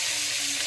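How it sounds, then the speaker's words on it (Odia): River fish coated in turmeric, salt and mustard oil frying in a pan on a stove: a dense, steady hiss of sizzling oil, close and loud, with no break and no voices. "ଚୁଲିରେ ଆମର ଭଜା ହଉଛି।"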